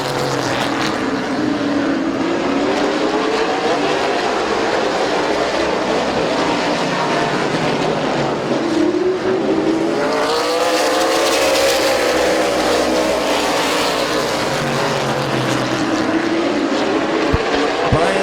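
Race cars roaring around Midvale Speedway in a pack, several engines overlapping loudly and continuously with rising and falling pitch as they sweep past, three wide at times, with a steady crowd-and-track din underneath.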